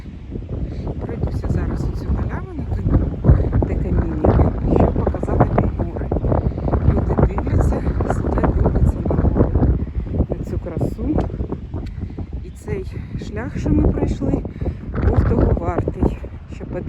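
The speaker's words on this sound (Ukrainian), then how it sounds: "Сильний вітер." Strong mountain wind at Bukowina Tatrzańska in Poland's Tatra region buffets the microphone continuously in loud, rough gusts, with a voice speaking faintly underneath.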